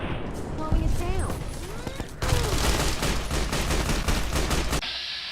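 M1 Garand rifle fire in Fallout: New Vegas hardcore mode, a fast run of loud, closely spaced gunshots in a dense burst, with a voice speaking over the first part.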